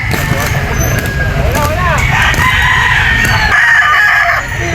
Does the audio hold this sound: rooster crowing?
yes